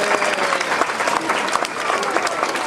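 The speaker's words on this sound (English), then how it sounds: "Give them all a big round of applause." Audience applause rings out at a live animal presentation, a dense crowd clapping steadily throughout with a faint voice or two mixed in.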